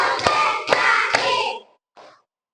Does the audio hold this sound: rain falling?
no